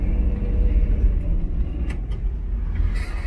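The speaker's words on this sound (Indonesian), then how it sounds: "Ini coba lewat polisi tidur." A 1962 Chevrolet Impala rolls slowly over a speed bump, its engine giving a steady low rumble with soft road noise and faint knocks. There is no talk, and the sound stays close and even throughout.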